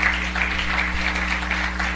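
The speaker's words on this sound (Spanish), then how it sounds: "Denle un aplauso al Señor, hermano" A church congregation applauds in a continuous, fairly loud patter of clapping over a steady low hum, lasting the whole moment without a break.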